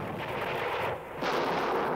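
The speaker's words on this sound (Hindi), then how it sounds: "तब पश्चिमी फाटक के तोपची गुलाम गौस खान ने अपनी तोप का मुंह अंग्रेजी सेना की ओर कर दिया।" Cannon fire, as in artillery fired from the western gate of Jhansi fort at the British army, rumbles as a loud, dense roar with a brief dip before it surges again.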